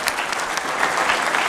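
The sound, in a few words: audience applause after a speech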